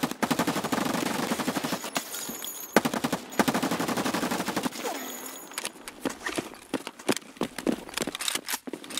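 Rapid bursts of automatic gunfire from a video game gun, loud and sharp, firing in clustered volleys with brief pauses between them.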